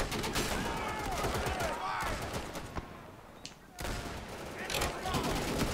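Gunfire in the World War II shooter game Easy Red 2: dense, continuous crackling volleys of rifle and machine-gun fire with a brief lull midway. Someone talks over it.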